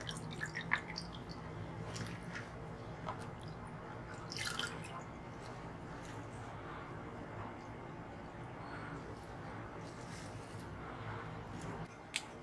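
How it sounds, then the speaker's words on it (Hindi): Steady trickling and dripping of water with occasional wet squishes and rustles, continuous and fairly quiet, as water drains off washed mustard greens. "अब इसका पानी निकाल देंगे।"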